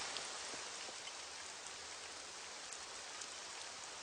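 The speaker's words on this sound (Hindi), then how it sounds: "ओह, बारिश शुरू हो गई।" Steady rainfall pattering on surfaces, a soft even hiss with occasional distinct drops, heard alone without voices.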